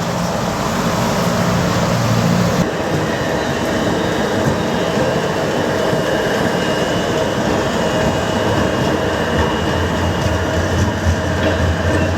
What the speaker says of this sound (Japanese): 路面電車だよ。 あれが中に入ってくるんだよ。